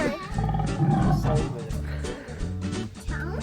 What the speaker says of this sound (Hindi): यहाँ आपको आवाज़ भी आ रही है टाइगर की।